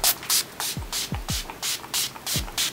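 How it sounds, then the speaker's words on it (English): Urban Decay De-Slick makeup setting spray fires in a quick series of about eight short, hissing mists, each pump marked by a soft click, close and fairly quiet. "So this is the Urban Decay D-Slick Makeup Setting Spray."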